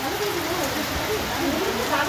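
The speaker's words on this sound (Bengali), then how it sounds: "খুব বৃষ্টি হচ্ছে।" Heavy rain pours onto a rooftop garden, a dense, even wash of hissing noise that continues without a break, moderately loud, with faint voices talking underneath.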